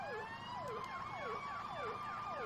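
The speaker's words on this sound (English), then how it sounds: "We'll definitely run two extra sirens here to help out there." Video-game fire rescue vehicle sirens in Farming Simulator 17 wail, sweeping up and down in a steady repeating cycle, continuous and moderately loud, with a low rumble underneath.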